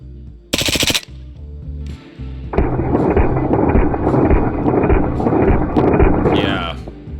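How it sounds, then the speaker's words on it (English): An MP5SD clone with a trigger mod fires rapid simulated full-auto bursts: a short sharp burst, a pause, then a long continuous loud string of shots that cuts off abruptly, with a voice briefly at the end. "that is what's allowing me to pull the trigger rapidly and cyclically along with the gun, which is what simulates the full auto fire"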